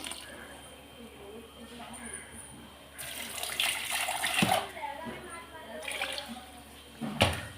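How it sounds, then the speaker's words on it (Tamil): Tamarind water is poured into a simmering kara kuzhambu gravy with drumstick and brinjal, a splashing, gushing pour of about two seconds after some quieter sounds, with a voice speaking nearby. "இப்போ நான் அந்த குழம்புல புளியை ஊற்றிக்கிறேன்."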